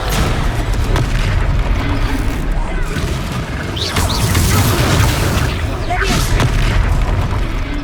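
Confringo fire spells blast enemies in the Hogwarts Legacy video game, producing loud, repeated booming explosions and crashes over a noisy battle, with voices talking and shouting throughout.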